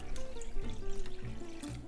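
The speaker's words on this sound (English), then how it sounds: "All right, 2 cups of cold water." Cold water running from a tap and poured into a measuring cup in a home kitchen, a steady close splashing stream that continues for about two seconds with no talking.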